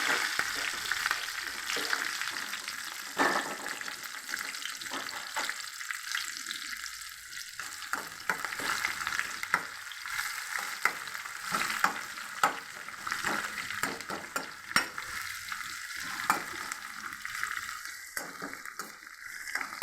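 Onion and green chilli fry in oil with cumin in a pan, giving a continuous sizzle with occasional stirring scrapes and clinks, close and steady for about twenty seconds with no talking.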